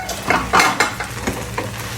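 Sabudana khichdi with peanuts and pepper is stirred in a pan, several quick scraping strokes over a soft sizzle, close and fairly loud, no voices.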